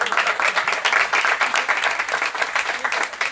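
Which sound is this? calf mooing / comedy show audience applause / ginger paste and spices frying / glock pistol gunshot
comedy show audience applause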